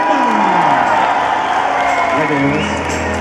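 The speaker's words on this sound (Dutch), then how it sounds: "ik wil even een heel hard applaus voor de man die hier het hele jaar mee bezig is" A crowd of young fans applauds and cheers loudly and steadily for the man who organises their yearly meetup event. The applause is dense and sustained, with whoops, and a voice carries through it.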